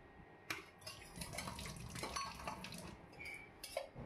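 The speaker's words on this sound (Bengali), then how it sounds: "আর এক আটি এখন সেদ্ধ করে জলটা ঝেড়ে নিচ্ছি" Water drains from boiled taro leaves in a kitchen as a quiet splash and trickle, broken by a few metallic clinks of a pot or utensil, with no voices.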